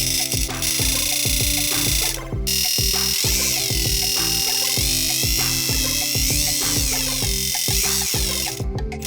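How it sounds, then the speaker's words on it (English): Electric motor spins against a reed in a homemade RC drift and burnout sound device, producing a loud, buzzing, rattling oscillation with rapid pulsing clicks and brief dropouts over nine seconds. "this motor is spinning against a reed and it's creating kind of a"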